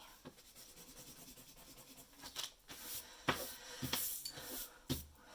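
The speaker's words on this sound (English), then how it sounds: "now I'm just going back and erasing the pencil lines" Scratchy rubbing of an eraser on paper in short bursts, several quick strokes with pauses between them, close up and fairly quiet.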